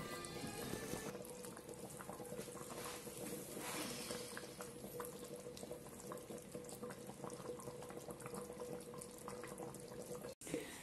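Tunisian chorba with frik, a soup simmering uncovered in a pot to reduce, gives a faint, continuous low bubbling and watery burble without a break, and a brief click near the end.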